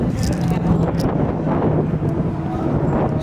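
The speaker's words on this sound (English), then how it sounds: "it is windy as hell out here" Wind buffets the microphone at Thunderhill East racetrack in a constant low rumbling roar, loud and close, with gusty flutters and no talking.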